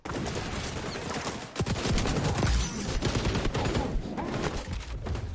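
Sustained bursts of SMG fire in the shooter game XDefiant, loud and continuous with rapid overlapping shots throughout, with no talking.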